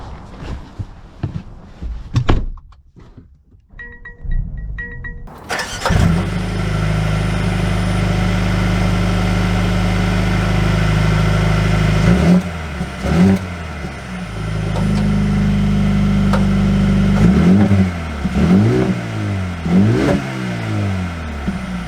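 A 2022 Mercedes-AMG CLA 35 engine cranks and fires, then settles into a steady idle broken by several sharp revs, close and loud, with no talking.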